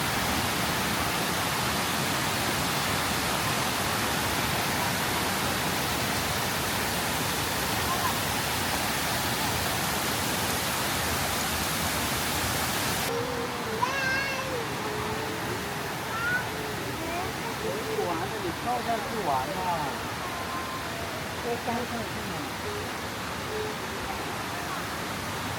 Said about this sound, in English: Yeah, it is the waterfall.